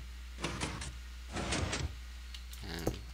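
Minecraft piston door closing in a video game: three separate bursts of clacking and sliding mechanical noise, each lasting about half a second, close and moderately loud, with no talking.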